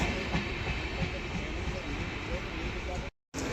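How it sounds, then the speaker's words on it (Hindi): The Gomti Express picks up speed on the rails near Tundla, heard as a loud, continuous rumble with rhythmic wheel clatter and hiss, cut off by a brief dropout near the end. "स्पीड अप हो गई भाई गोमती एक्सप्रेस"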